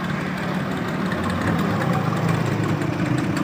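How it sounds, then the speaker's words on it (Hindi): A 2021 Fiat 640 tractor engine idles nearby with a steady, dense low rumble and slight knocking vibration, unbroken throughout. "सोना ट्रैक्टर है 2021 मॉडल 640"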